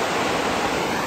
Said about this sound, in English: Got the waterfalls.